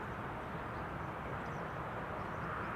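A Transavia Airbus A321 arrives at Schiphol, sounding as a faint, distant broadband jet roar that holds steady and low, with no voices.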